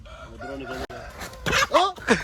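A desi rooster crows close by, a loud, strained cock-a-doodle-doo rising near the end after some throaty calls, with a person's voice mixed in.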